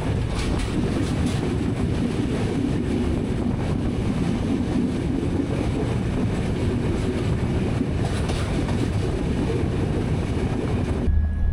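A passenger train rides along the rails in Sri Lanka, a loud, steady rumble of wheels and carriages with rattling and faint clacking, heard from on board, continuous throughout.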